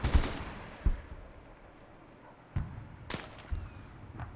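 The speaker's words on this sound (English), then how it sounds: "they're returning fire on me now" Scattered gunshots in a video game battle set in Seoul during an alternate-history Second Korean War: a few sharp cracks and thumps, some distant, spread across quiet background with no talking.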